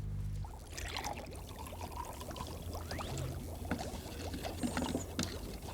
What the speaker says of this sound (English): Pour some vinegar into the smaller container.